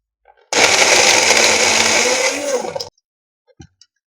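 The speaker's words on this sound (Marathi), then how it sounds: "आता झाकण लावून आपल्याला एकदा ज्यूसरला फिरवून घ्यायचं" A juicer jar whirs loudly as it blends watermelon into juice, running steadily for a couple of seconds before cutting off, followed by a few light clicks and knocks.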